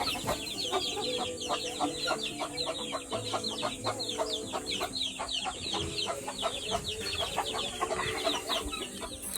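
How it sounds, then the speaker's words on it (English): Chicks and chickens cluck and peep inside a coop, a steady busy chorus of short, rapid chirps and clucks close by, with faint scattered voices underneath. "Yep, 17. 17 chicks. Let me give you a quick look at all the chickies."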